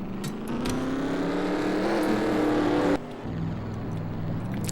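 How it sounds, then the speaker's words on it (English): Race car engines in a Busch Grand National stock car racing video game roar together at a loud, steady level. The pitch rises as they rev, then the sound drops and settles into a continuous rumble. "Drivers, start your engines."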